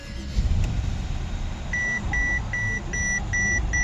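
A 2014 Mercedes S500 being started with a newly programmed key: a low idle rumble under a regular series of short, clear electronic warning beeps repeating at an even pace.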